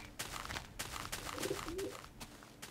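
A pigeon coos twice in a video game, short low warbling calls set against a quiet ambient background with faint clicks, no talk over it.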